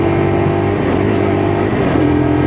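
A Lexmoto LXR E55 125cc motorcycle accelerates hard along a dual carriageway, its engine droning loud and close with a steady rising tone and a brief dip as it shifts up through the gears.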